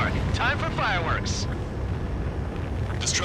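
A bunker buster bomb hits a missile silo in Ace Combat 7, leaving a deep, continuous rumbling roar, with a voice speaking briefly over it at the start.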